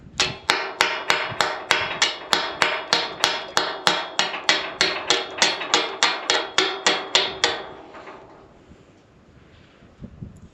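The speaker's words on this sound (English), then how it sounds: "Got my chipping hammer" A chipping hammer strikes welds on gate hinges, about thirty sharp metallic taps in a fast, even rhythm, close and loud, then stopping into quiet with a couple of faint knocks.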